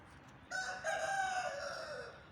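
A rooster crows loudly among desi chickens on a poultry farm, one drawn-out call with a rising start and a falling tail, over faint farmyard background.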